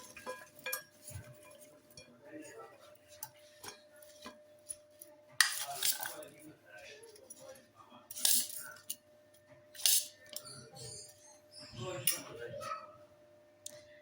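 Fruit chaat spooned into a bowl, heard as scattered close clinks and taps of a utensil against the dish, with soft rustling between the sharper knocks.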